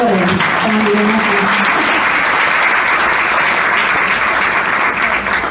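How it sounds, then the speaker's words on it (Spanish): Sustained audience applause welcoming community leader Carlos Julio Roa at a Venezuelan political accountability event, steady and loud throughout, with brief voices near the start. "con un gran aplauso, recibimos a un gran dirigente comunitario"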